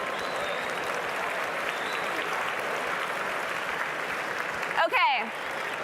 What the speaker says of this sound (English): Clap if you can hear me.